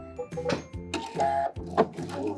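A sewing machine stitching shirring on fabric, close and loud, running in rapid mechanical bursts with short pauses between runs, no talking.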